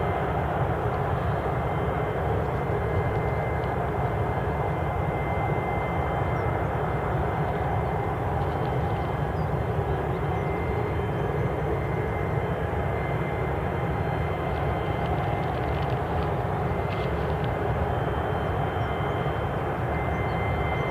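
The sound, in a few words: airplane at Newcastle International airport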